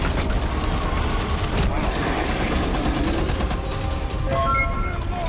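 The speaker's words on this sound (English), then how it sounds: "Okay, we're shooting." Sustained dense gunfire from squad combat against alien invaders in Rainbow Six Extraction, a continuous loud rattle of overlapping shots with mechanical clatter and brief voices in the mix.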